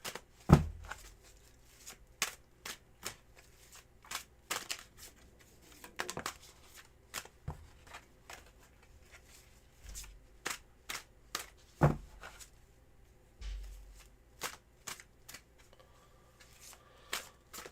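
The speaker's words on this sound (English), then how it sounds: "here are your 10 official shuffles there, Jing." Tarot cards are shuffled and snapped repeatedly in sharp, crisp bursts at a steady, regular pace, close and fairly quiet with no talking.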